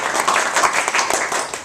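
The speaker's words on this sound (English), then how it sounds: "Let's give them a round of applause." A crowd claps and applauds for the trainers, a dense burst of many hands clapping close by that holds steady and tapers slightly at the end.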